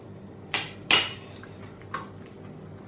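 A spoon stirs muhallebi cake batter with margarine in a bowl, giving a few sharp metallic clinks against the bowl, the strongest near the start, then fainter taps over a quiet background.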